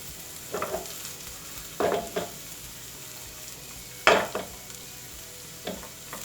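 Bacon stir-fried in a pan with chilli and salt gives a low sizzle broken by a few sharp scraping strokes of stirring, each a short burst at irregular intervals.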